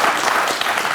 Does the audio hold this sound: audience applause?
yes